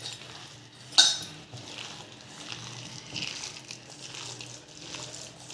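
Moong dal batter for garelu is stirred with salt in a bowl, giving soft, wet scraping and a few clinks of a spoon against the vessel, with one sharper knock near the start, quiet and close.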